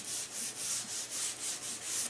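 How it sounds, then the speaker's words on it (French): Sanding block rubbed by hand over the edge of a table football cabinet panel, eight even back-and-forth scraping strokes in a steady rhythm, close and soft, with no talking. "Et puis on finit avec une cale à poncer."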